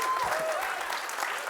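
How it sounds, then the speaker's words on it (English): Conference audience applauding after a keynote talk on the Python programming language, a dense continuous wash of clapping from a large hall with a few faint whoops and voices mixed in. "keep clapping, keep clapping"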